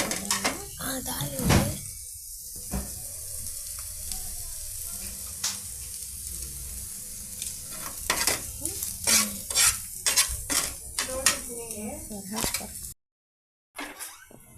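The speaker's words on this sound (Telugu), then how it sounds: "చపాతీని రెండు వైపులా ఆయిల్తో ఈ విధంగా బాగా ఫ్రై చేసామండి" Chapati frying in oil in a pan, soft sizzling under scattered clatter and scraping, with people talking in the background and a brief silence near the end.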